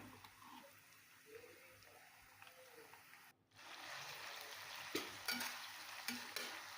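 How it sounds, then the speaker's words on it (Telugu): Masala paste fries in a pan and is stirred together, giving a quiet, close sizzle with soft scraping that grows fuller and steadier partway through. "సో ఇదంతా కూడా బాగా కలిసేలాగా మనం కలిపేసుకోవాలి ఇలాగా."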